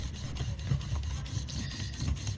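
Steel chisel back rubbed flat and polished across a sharpening stone, a steady low rasping scrape with rhythmic back-and-forth strokes, close and fairly quiet, no talking.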